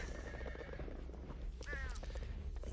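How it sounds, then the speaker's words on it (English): A horse in the video game Sacred whinnies once, a short falling neigh in the middle, heard over steady game background noise. "There's another horse there."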